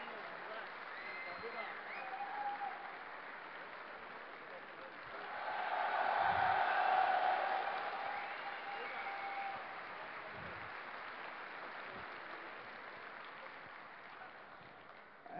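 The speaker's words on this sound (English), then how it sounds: "Let's give a round of applause to all our players who came out today to make the show great." Applause for the players at a DreamHack 2010 StarCraft II esports tournament, a faint, distant crowd clapping that swells in the middle and then fades, with a murmur of voices around it.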